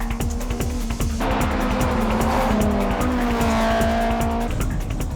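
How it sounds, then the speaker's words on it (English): A Honda S2000 and a Mitsubishi Lancer race on a mountain touge road, engines roaring loudly and steadily with rising and falling revs while tires squeal through a corner, no voices. "And once again, Orito uses the turtle start and leaves the S2000 behind."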